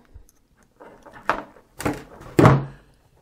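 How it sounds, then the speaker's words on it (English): Pliers gripping and yanking the metal pins out of a large lamp plug: three separate clunky knocks spaced about half a second apart, the last the heaviest, with faint handling noise between them and no voices. "take our pliers and pull those pins out"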